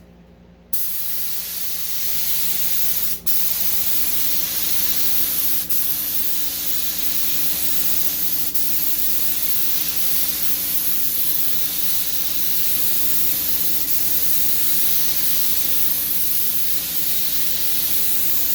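A conventional spray gun hisses steadily and loudly as it sprays latex paint onto a plastic-wrapped IKEA tabletop, starting abruptly and continuing with a constant whooshing spray and a low compressor hum for over fifteen seconds.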